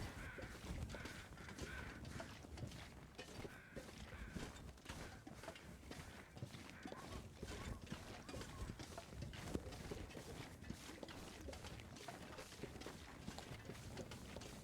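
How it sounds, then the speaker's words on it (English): Crows caw repeatedly over a busy ambient soundscape in the video game The Long Dark, with footsteps and faint mechanical noise, the calls fairly faint and distant. "I do hear crows ahead"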